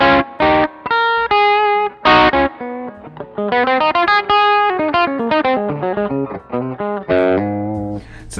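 An electric guitar played through an overdrive pedal set just at breakup, clean when picked lightly, single notes and chords with a gritty edge that grows when picked harder.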